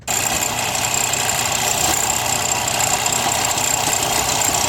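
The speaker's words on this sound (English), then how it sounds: "instead of manual, I have a belt sander that I'll use" A belt sander trims new rubber on a tennis shoe sole, giving a loud, steady, continuous motor drone with a grinding hiss that starts abruptly and holds unchanged throughout.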